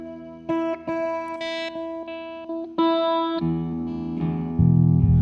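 A Godin Multiac Spectrum SA guitar with a distorted, effected tone plays short held notes, then a thicker, fuzzy low-register chord swells toward the end.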